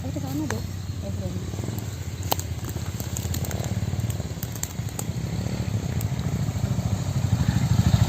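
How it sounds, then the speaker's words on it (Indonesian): A motorcycle engine rumbles low and continuous on a mountain road, heard under people talking. "Wah, ada sepeda motor."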